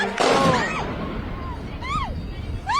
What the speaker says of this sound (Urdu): بہت تگڑا ہی دھماکہ ہوا ہے یہاں بحرین میں۔